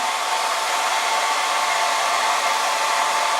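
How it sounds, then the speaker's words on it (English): A loud, steady hair dryer roars on high throughout, heating glue to loosen it, a constant airy rush with no change in level and no voices. "get your hairdryer, plug it in, turn it up on high"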